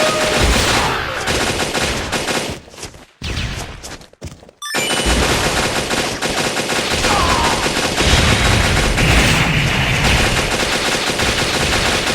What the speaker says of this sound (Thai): ได้เวลาสาดกระสุน